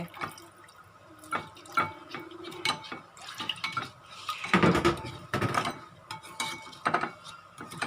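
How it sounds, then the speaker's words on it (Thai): A little boiled water is poured into the dressing for a fluffy catfish salad, a short watery burst midway among scattered close clinks and taps of utensils against dishes. "ก็จะใส่น้ำต้มสุกนิดหน่อยนะคะ"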